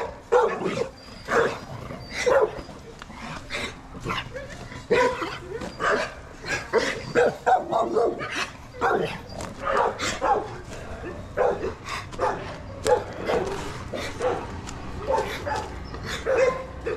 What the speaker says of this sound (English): Got a dog over here, all chained up.